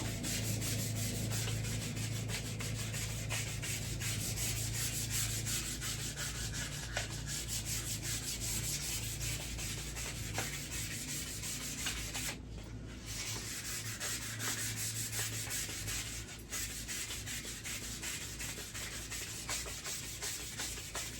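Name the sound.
sanding a firearm with fine 120 sandpaper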